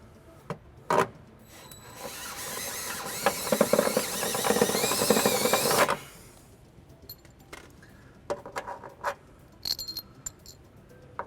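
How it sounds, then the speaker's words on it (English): A step drill bit enlarges an access hole in the frame of a 2012 Hyundai Genesis, giving a harsh grinding burst of about four seconds, followed by scattered clicks and light metallic taps. "So using that step bit, we're just going to enlarge it slightly."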